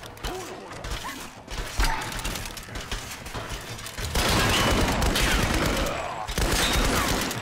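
Assault rifle fire in the Tomb Raider game, dense bursts of shots and mechanical clatter that swell louder and busier in the second half, with a brief dip before the shooting resumes.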